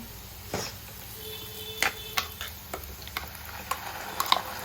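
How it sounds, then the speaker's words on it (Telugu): A spoon scrapes and stirs masala paste into a stuffed eggplant (gutti vankaya) curry in a pan, giving irregular clicks and scrapes over a faint sizzle with no talking. "ఆ పేస్ట్ అంతా వేసుకొని మంచిగా కలుపుకోవాలి."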